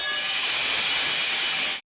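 A train in the 1965 western For a Few Dollars More hisses and grinds to an emergency stop, a loud, dense, continuous rush of braking noise that ends abruptly.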